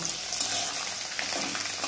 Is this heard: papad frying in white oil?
yes